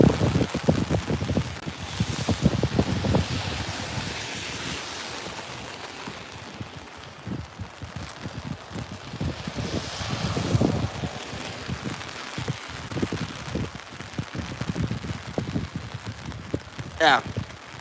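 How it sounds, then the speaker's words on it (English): Steady rain falling outdoors beside a Norwegian fjord, a dense continuous patter with gusts of wind buffeting the microphone and occasional louder drips, lasting throughout at moderate loudness. "but it's raining here and out in the fjord"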